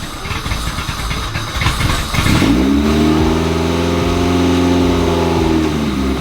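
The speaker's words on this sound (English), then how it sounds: "I guess we just got to start the car" A car engine with a surging idle problem cranks and catches, then settles into a loud, steady running drone with slight pitch wavering, close by and without voices.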